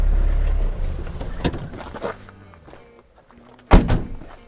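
A Toyota Prado LJ-72 door thunks shut as someone climbs out, with a jangle of keys and a few footsteps. The engine rumble fades out before it, and a second loud thud comes near the end.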